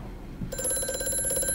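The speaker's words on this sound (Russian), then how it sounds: "Звонит телефон." An old telephone rings in the horror game Amnesia: A Machine for Pigs. The steady bell-like ring starts suddenly partway through and holds clear and loud over a low ambient drone.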